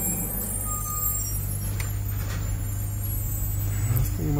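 A truck idles with its brake set, a steady low engine rumble running throughout, close and even, with a couple of faint clicks and a short rising tone near the end.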